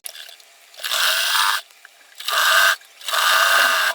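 A sewing machine runs close by, stitching a folded fabric strip in three short bursts of rapid mechanical whirring with brief pauses between them; no talking.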